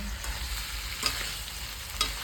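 Spiced chicken for kala bhuna is stir-fried in a pan, a soft steady sizzle broken by two brief scraping stirs.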